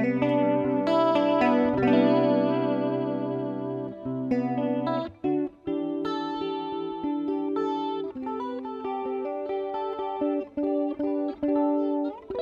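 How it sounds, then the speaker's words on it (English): Sustained electric guitar lead with a shimmering chorus effect, notes held and bent over chords, steady and loud with brief gaps between phrases. "I mainly layer this with my lead sound using a chorus to get a vintage"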